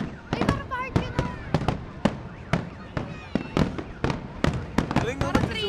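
Fireworks burst in a rapid irregular series of sharp loud bangs with crackling tails, some popping close together, while people's voices murmur faintly underneath.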